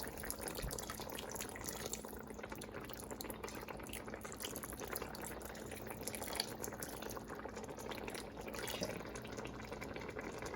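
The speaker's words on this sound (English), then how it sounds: "I'm gonna pour it in the pot over here so it'll make it like a thick gravy" Liquid poured into a cooking pot to thicken a gravy for Jamaican-style brown stewed chicken, a steady wash of pouring and bubbling water heard alone at close range throughout.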